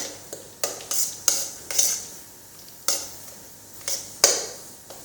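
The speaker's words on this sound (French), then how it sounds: "Donc on va mélanger le tout." A spoon stirs a mushroom and crème fraîche mixture in a bowl, giving about a dozen close, crisp clinks and scrapes in an uneven rhythm, with no talking.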